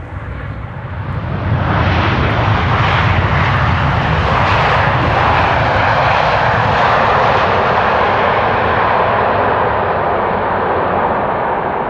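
A fixed-wing airplane passes at Amsterdam Schiphol Airport, its engine roar swelling within the first two seconds and then holding loud and broad, close to the listener, with no voices.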